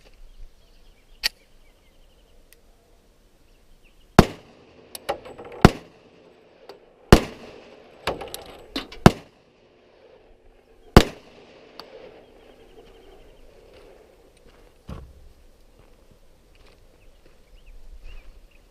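A handgun with a polished feed ramp fires five rounds of a different reload: sharp, loud outdoor reports spaced irregularly over several seconds, with a few fainter pops and quiet stretches between shots.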